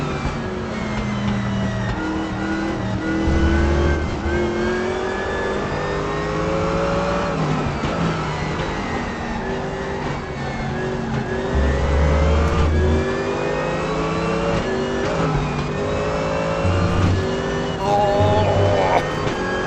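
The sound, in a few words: Porsche race car engine in RaceRoom racing video game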